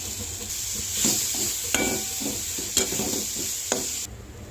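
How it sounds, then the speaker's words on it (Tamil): Garlic frying in oil in a pan until golden, a steady close sizzle broken by several sharp scrapes and clinks of a spoon stirring against the metal, with no talking. "அதே கடாயில் கொஞ்சம் எண்ணெய் விட்டு பூண்டு அதில் சேர்த்துக்கலாங்க. நல்லா பொன்னிறமாக வறுத்து எடுத்துக்கலாம்"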